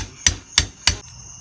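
Three sharp hammer strikes on a durian to crack it open, evenly spaced and close, each a hard thud with a brief ring, followed by quiet.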